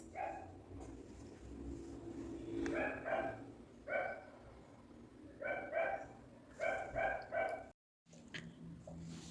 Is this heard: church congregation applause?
no